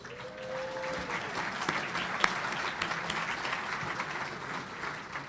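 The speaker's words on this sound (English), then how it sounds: "Let's give them a round of applause." Audience applause at a county State of the County address, a sustained wash of clapping from a large crowd filling the room steadily throughout, with no speech over it.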